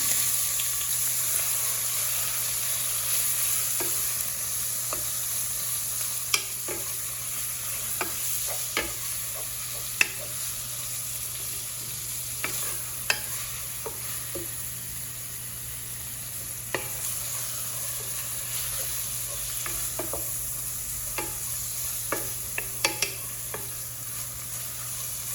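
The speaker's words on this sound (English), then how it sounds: "We'll cook our beef until it's ready" Beef fries over medium heat in a pan, a low steady sizzle punctuated by sharp clicks and scrapes of a utensil stirring the meat, close and continuous, with no one talking.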